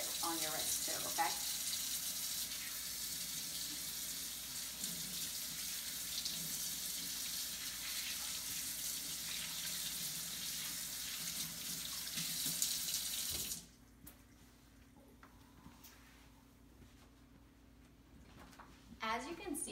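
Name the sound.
washing hands under a running tap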